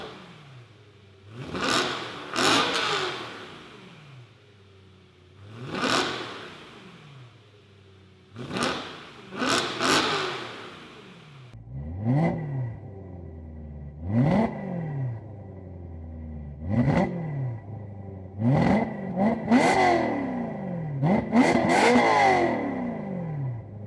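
BMW E90 M3 engine revved while stationary, a series of sharp throttle blips rising and falling, about ten bursts with pauses between, loud and close with a steady idle underneath.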